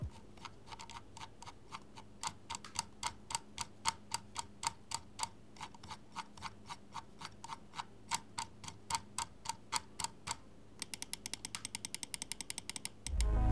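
Scroll wheel of a Hator Quasar Wireless gaming mouse clicking in a steady run of sharp, close ticks, then a faster burst of rapid clicks near the end, with no voices.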